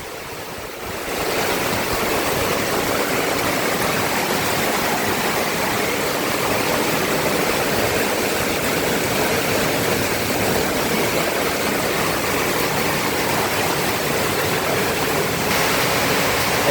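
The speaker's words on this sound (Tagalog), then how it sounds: "Walang tigil ang ulan." Heavy afternoon and evening rain pours down steadily on a flooded, potholed road in Bucana, a dense, unbroken roar of falling water that fills the whole scene from start to finish without pause.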